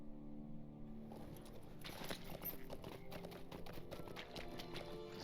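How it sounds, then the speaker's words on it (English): Horse hooves clip-clop at a steady trot in the Lord of the Rings Online game, the rhythmic taps close and clear from about one second onward over a soft background. "I can get on my horse now."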